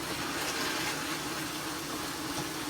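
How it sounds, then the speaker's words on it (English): Continuous rush of water flowing through a Navien tankless water heater as vinegar is flushed out of the system, a steady, moderately quiet hiss and gurgle with no talking. "And I'm just going to turn on the water."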